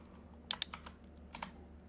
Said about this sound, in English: So I'm typing my project or folder name here